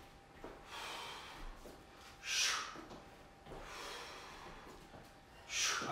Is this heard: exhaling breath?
yes